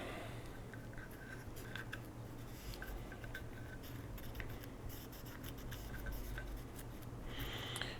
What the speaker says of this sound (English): I'm just going to use my little nylon brush